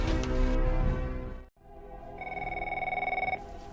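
An electronic telephone rings in a steady, pulsing trill after a short break in a noisy background, close and moderately loud.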